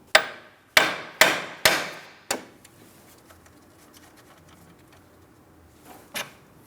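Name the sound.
hammer tapping on a car steering knuckle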